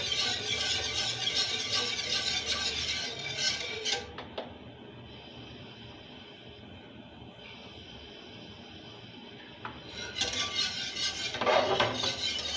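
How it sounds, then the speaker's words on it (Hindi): A three-ingredient dessert mixture is stirred continuously in a pot over a low-medium flame, with metal scraping and clinks at the start and end and a quieter steady hum between. "इस तरह मुसलसल मैं इसको चलाती रहूँगी ताकि ये नीचे लगे भी ना"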